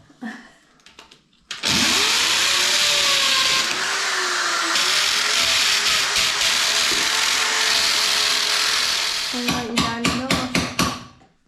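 A hammer drill boring a chimney hole through a double-row brick wall of a village house roars loudly for several seconds in one long continuous burst, then stops and gives a few short pulses at the end.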